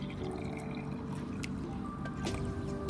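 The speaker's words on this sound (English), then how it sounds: "Put some hot water into a glass." Hot water pours into a glass for tea, a close, steady trickle and splash with a few drips, heard alone without talk.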